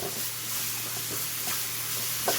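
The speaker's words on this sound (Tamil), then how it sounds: "நல்லா தக்காளி வதங்கிடுச்சு வெங்காயம் தக்காளி எல்லாம் நல்லா வதங்கிடுச்சு" Onions and tomatoes sautéing for pepper chicken masala make a continuous close sizzle with faint stirring clicks and a low steady hum underneath, without speech.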